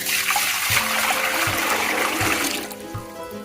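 Steady rush of one gallon of water pouring into a large pot, loud and close, with a faint rhythmic knocking underneath that fades slightly near the end.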